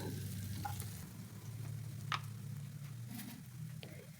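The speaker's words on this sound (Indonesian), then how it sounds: "10 buah cabai merah diiris dan 3 siung bawang putih dicincang lalu ditumis ya" Sliced red chillies and chopped garlic sautéing in a pan, a steady low sizzle with a few light clinks from stirring, heard alone.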